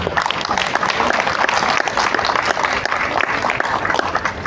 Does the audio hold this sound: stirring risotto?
no